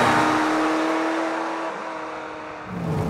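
Ferrari F355 with a six-speed manual and metal-knob gated shifter, engine holding a steady high rev tone that eases off, then picks up again near the end, loud and close from inside the car.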